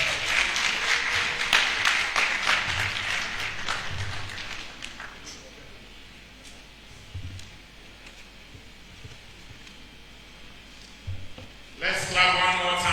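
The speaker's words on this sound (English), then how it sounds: "Let's clap one more time to welcome our second speaker for the day." Lecture audience clapping to welcome a guest speaker at a commemorative event, a loud burst of applause that thins into scattered claps, with a voice speaking briefly at the end.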